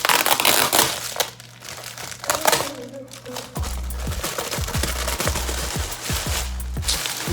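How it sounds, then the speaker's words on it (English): A plastic mailing bag is torn open and handled at close range, loud bursts of crinkling and crumpling with sharp rustles and a few low thumps, no talking. "So let's open the bag."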